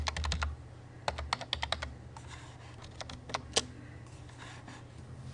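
Password being typed on a computer keyboard, with quick bursts of close, crisp key clicks, pauses between them, and a low steady hum underneath.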